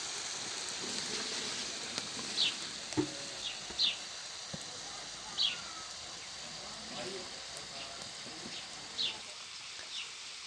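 Sacrificial Kurban tripe roasting in a pan gives off a steady, soft sizzling hiss, with a few bird chirps from the surrounding garden breaking through.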